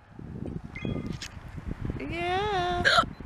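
A child hiccups outdoors beside floodwater, one short abrupt hiccup heard close among talk and a sustained high voiced sound.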